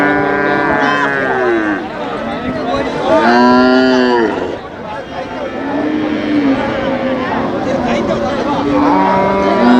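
Cows moo repeatedly at the Manapparai cattle market, long loud calls from several animals close by, heard over steady crowd chatter and people talking.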